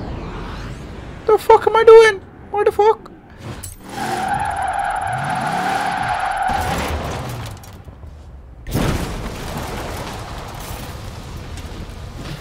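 A Chevrolet C8 drifts in Forza Horizon 4, its engine revving and whining in sustained bursts with screeching tire skids, loud and close, while someone talks over parts of it.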